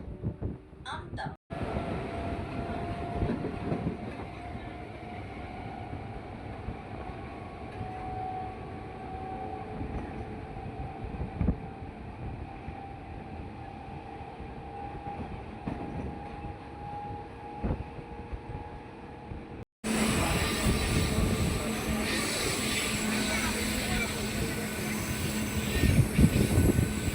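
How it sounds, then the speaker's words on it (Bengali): A Howrah–Amta local train runs between Jalalsi and Harishrampur stations with a continuous rumbling roll and rattle. The sound is steady for most of the stretch, then turns louder and harsher near the end. Faint voices are mixed in. "আমাদের ট্রেন এসে পৌঁছালো হরিশ্রামপুর"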